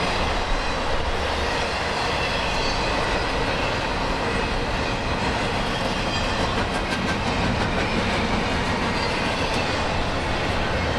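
A long freight train rolls past close by in a steady, loud roar of wheels and rattling cars, with clickety-clack and faint wheel squeal running the whole time.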